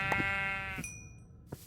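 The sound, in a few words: sheep bleating in a video game (Minecraft server)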